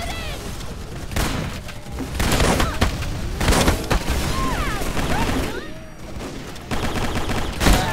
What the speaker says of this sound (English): She's gonna use her rocket launcher because she's not good enough.